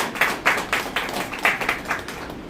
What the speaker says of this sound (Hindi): तो भाई साहब के लिए एक बार तालियां हो जाए।